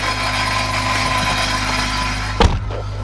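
A car engine runs steadily with a worn exhaust resonator, giving a constant droning hum with tonal buzz, ending in a brief louder thump near the end; no talking.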